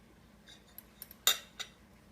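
Fork and knife clinking against a plate while cutting poached egg, Portuguese chouriço and sweet peas: a few faint, sparse taps, then one sharper scrape and clink, quiet and close, with no talking.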